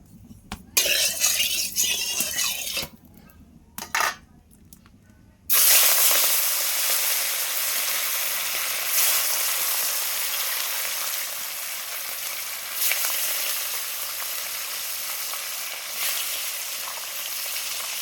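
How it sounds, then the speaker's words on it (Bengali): Fish frying in hot oil in a wok for an aloo-fish curry, a loud continuous sizzle that bursts in at about five seconds after some quieter clatter, then stays steady with occasional crackling flare-ups. "দেখো মাছগুলো আমি ভেজে নিই"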